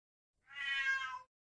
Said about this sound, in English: Oh, the meowing.